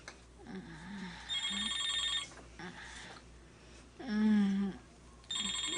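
A cellphone rings repeatedly in bursts of electronic trilling tones separated by short gaps, moderately loud over a faint background hum, with no talking.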